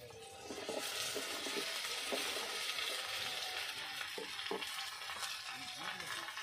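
Cut gathi kochu taro fries in a pan with a soft, steady sizzle and a few light clinks of stirring, heard quietly from nearby.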